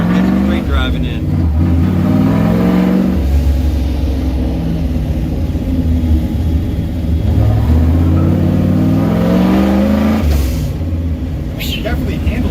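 A car being test-driven on a straight road after body and fitment work, its engine rumbling and rising through several revving pulls from inside the cabin, with people talking over the noise.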